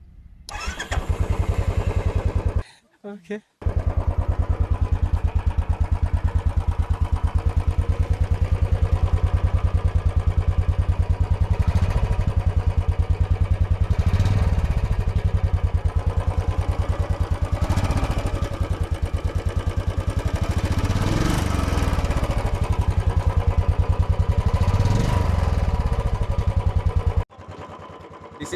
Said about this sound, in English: is the sound of the Royal Enfield Classic 350